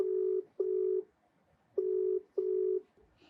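Telephone keypad dialing: four steady two-tone DTMF beeps, each about half a second long, in two pairs separated by a pause, clear and close with no talking.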